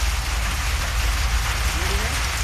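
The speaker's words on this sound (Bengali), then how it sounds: "এখন বেশ বৃষ্টি হচ্ছে, বলতে গেলে মুষলধারেই বলা যায়।" Heavy downpour on the bank of the Padma river, a dense, continuous roar of rain hitting surfaces nearby, loud and unbroken throughout.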